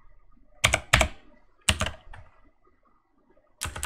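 Short bursts of typing on a computer keyboard enter latitude coordinates, with clustered key clicks separated by pauses, close and fairly quiet.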